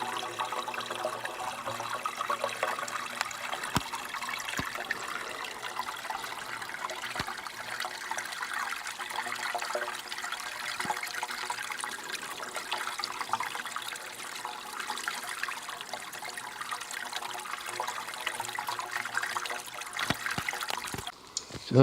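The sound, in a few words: water flowing from a spring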